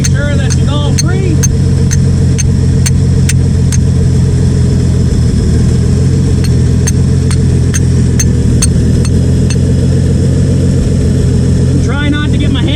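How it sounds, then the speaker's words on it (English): A metal bar taps sharply on the thermostat housing of an old Ford F350 in quick bursts of evenly spaced clinks, over the steady loud idle of the truck's engine. "So I'm just gonna put my bar here, give it a rat-tat-tat, right where the thermostat meets up."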